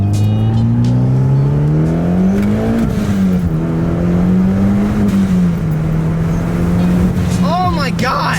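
A Mitsubishi Evo X with a straight-pipe exhaust drones loud and close while driving, its engine note rising and falling through gear changes and ending in a sharp rev, with a voice talking over it.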